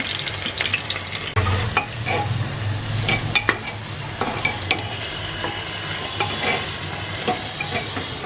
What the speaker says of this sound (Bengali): এবার পেঁয়াজটা এসে একটুখানি সামান্য ভেজে নেওয়া হবে।